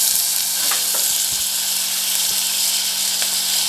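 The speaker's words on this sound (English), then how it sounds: "And we're going to start sauteing our onions." Onions sauté in a lidded saucepan, making a loud, even hiss of frying that fills the whole stretch, with a few faint utensil taps and no speech.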